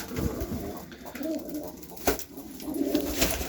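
Pigeons and doves cooing in a backyard coop, a steady run of soft, low coos close by, with no talk over them.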